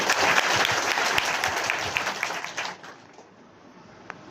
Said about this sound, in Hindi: ताली बजाकर स्वागत करिए।